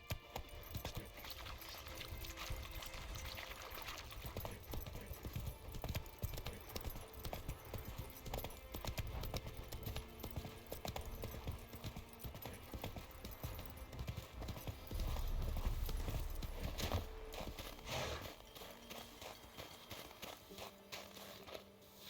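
Hoofbeats of Roach, Geralt's horse in The Witcher 3: Wild Hunt, clip-clopping steadily at a walk and close by, with a brief louder rumble near the end.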